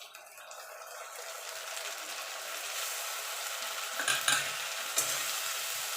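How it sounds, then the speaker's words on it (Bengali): Sliced onion fries in hot oil with ginger-garlic paste for a jackfruit and prawn curry, giving a dense, continuous sizzle. Near the end, a few clattering stirs sound against the pan. "এবার পেঁয়াজটা একটু লাল লাল করে ভেজে নেব এবার দিয়ে দেবো আদা রসুন বাটা"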